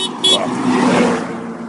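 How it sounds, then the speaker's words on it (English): A car passes close by loudly, a rising and fading road rumble with engine noise swelling in the middle, preceded by a short high chirp. "Loud noises when cars are going by."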